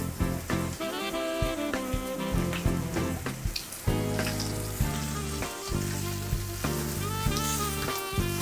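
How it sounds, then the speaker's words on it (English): Potatoes sear in a hot pan on a stovetop, giving a loud, steady sizzle full of crackling pops. Faint musical tones sound in the background. "we're going to sear off our potatoes"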